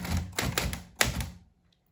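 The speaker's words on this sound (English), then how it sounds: "you press the letters that you like, and they make a stamp onto your paper" Keys strike on a manual typewriter, a quick burst of clacking stamps onto paper followed by one sharper final strike, close up and then dying to silence.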